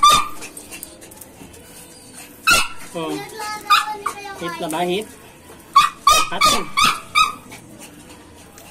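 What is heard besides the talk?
miniature pinscher dogs whimpering and barking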